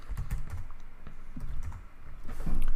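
Irregular clicks and clacks of fingers typing on a computer keyboard, close up, in short bursts with brief pauses and no talk.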